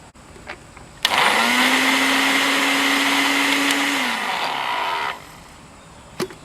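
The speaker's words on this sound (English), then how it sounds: "And we're going to blend that up into a pulp." A blender pulping paper with water kicks on abruptly with a loud, whirring grind, runs steadily for about four seconds, then cuts off.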